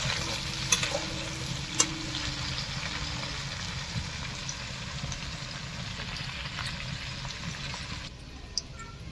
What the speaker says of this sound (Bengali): পেঁয়াজ ভাজতে ভাজতে পেঁয়াজের পাপড়িগুলো খুলে যাবে